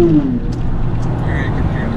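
A car passes along a Washington, D.C. street with a broad, steady rumble that swells slightly and stays fairly loud over the short span.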